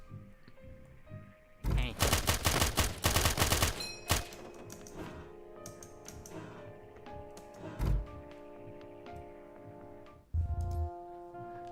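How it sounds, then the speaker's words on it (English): Rapid SMG bursts fire in a shooter video game, loud and rattling, followed by scattered shots, thuds and game effects. A voice speaks briefly. "I just have to hit him with a shotgun or an SMG."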